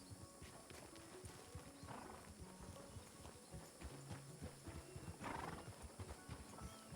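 Hooves clip-clop at a walking pace in a Wild West roleplay game, and a horse whinnies twice between the steps, all at fairly low volume.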